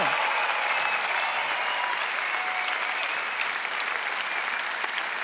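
Sustained, dense clapping from graduates and the audience at a 2024 graduation ceremony, an even roar of many hands in a hall that holds steady from start to finish.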